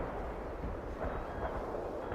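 Distant artillery barrage in World in Conflict, a low continuous rumble of overlapping blasts with no distinct individual shots, fairly faint.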